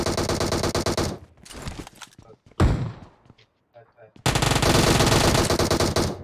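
Bursts of sustained automatic fire from an M762 rifle in PUBG Mobile rattle loud and close, first at the start and again in a long spray near the end. Scattered shots and thuds fill the quieter middle.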